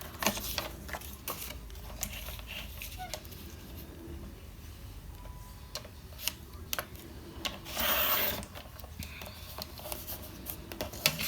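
Craft material for a small notepad holder is cut with a series of soft, irregular rasping and snipping strokes, broken up by small taps and a brief, louder scraping burst, all faint and close.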